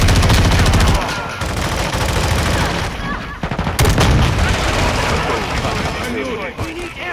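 Dense video-game gunfire from Call of Duty: Modern Warfare II, with loud bursts of automatic fire and booming shots running almost continuously, a heavy low thump near the middle.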